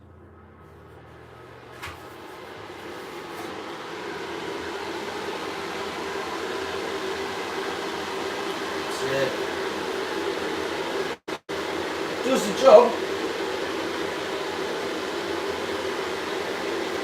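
Large fan running inside a grow shed, a steady broadband whoosh of moving air that holds at an even level throughout, with a brief short voice near the end.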